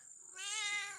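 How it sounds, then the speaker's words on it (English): A big cat gives a single drawn-out meow, close and clear, rising after a brief quiet moment and lasting about half a second. "See, it's a big old kitty."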